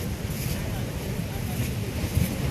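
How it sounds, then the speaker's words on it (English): Ocean waves wash onto a Maui beach in a steady, roaring surf, with gusts of wind buffeting the microphone throughout. "here's the waves on the day we're going home."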